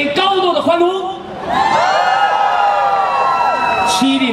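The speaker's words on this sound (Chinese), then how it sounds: "我们为这个荣耀的名字给高度的欢呼" A crowd cheers loudly at an indigenous naming celebration for the name Mayaw, sustained whooping voices rising together and held for several seconds with a person speaking at the start.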